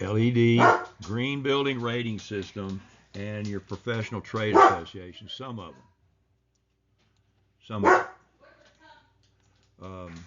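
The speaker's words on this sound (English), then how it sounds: "So I apologize about that bloody dog." A dog barks in the background, faint beneath a man's ongoing lecture speech, then a sharper bark or two sounds in the pause after the talking stops.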